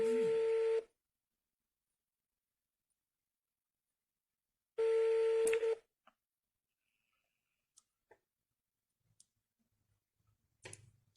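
A WhatsApp phone call ringing tone gives two long electronic tone bursts separated by a few seconds of silence, followed by faint scattered clicks and soft sounds.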